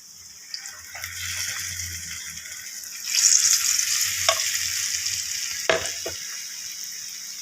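Rava paniyaram batter fries in hot oil in a pan, making a steady close sizzle that swells louder about halfway through, with a few light utensil taps and no talking.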